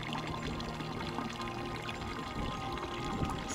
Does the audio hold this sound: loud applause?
no